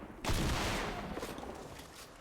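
A shotgun blast booms in the Fortnite: Save the World game, one sharp loud report followed by a rattling, decaying burst of follow-up fire and debris noise.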